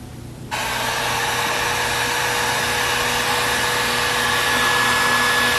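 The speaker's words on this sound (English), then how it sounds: "I'm going to heat that up a little bit, I think, with a heat gun, and it should peel right off" A heat gun clicks on and blows hot air with a sudden rush, then holds a steady, loud, close whooshing hum with a faint whine for several seconds while heating material during a craft project. No voices.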